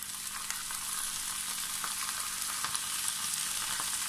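Cabbage frying and being stirred in a pan, a loud steady hiss of sizzling oil with scattered crackles and occasional soft scrapes, close and without talk.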